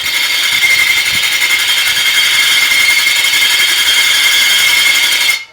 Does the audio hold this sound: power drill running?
yes